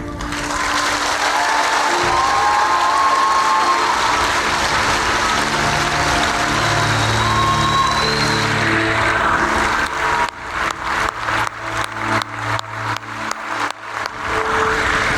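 An audience at a youth conference session honoring military members applauds, a dense wash of clapping for about ten seconds that thins into sparse, scattered individual claps.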